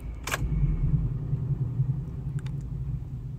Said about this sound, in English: So this is what it sounds when you shut it off all the time.